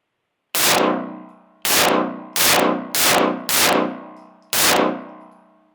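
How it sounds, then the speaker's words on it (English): A handgun fired six times by a shooter, each loud, sharp report ringing out briefly before the next, spaced about half a second to a second apart. "Why don't you try a couple shots and see how you like it?"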